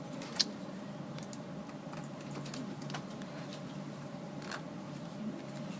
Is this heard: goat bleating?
no